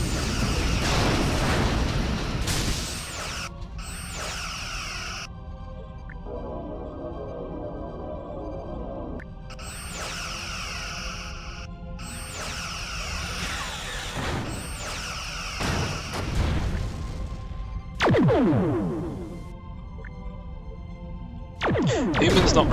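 Torpedo explosions boom and crash during a video game starship battle between USS Voyager and a Think Tank ship, a run of heavy, rumbling blasts and sharp bursts over a constant engine-like drone lasting many seconds.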